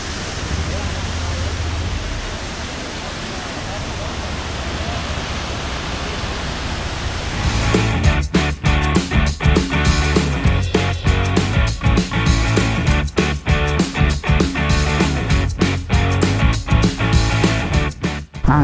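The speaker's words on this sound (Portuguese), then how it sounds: "do jeito que essa água cai aqui, parece que ela já tá salgada" Broad, continuous rushing roar of water falling at a roadside waterfall, loud and steady at first, then joined by choppy, irregular bursts from a scooter ride with wind buffeting over the water noise.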